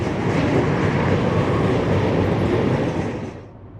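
A CSX freight train rolls across the Blackwater Creek bridge on creosote timbers, a loud, steady rumble close by that holds, then fades quickly near the end; no talking.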